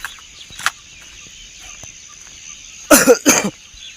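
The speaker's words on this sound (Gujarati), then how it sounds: "ખાંસી બહુ બહુ થઈ ગઈ યાર" A person coughs close by: one short cough early, then two harsh, rapid bursts in quick succession against a quiet background hum.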